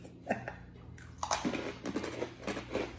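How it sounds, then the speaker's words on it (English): A giant Japanese rice cracker is bitten and chewed close to the mic, giving a few sharp crunching snaps followed by rapid, irregular crunchy mastication. "All right, let's try to break it and we'll just do little pieces."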